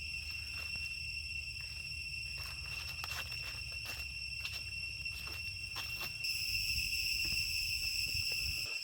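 Cicadas at the Angkor temples in Cambodia, a steady high insect drone of several layered tones that grows louder near the end, with no voices.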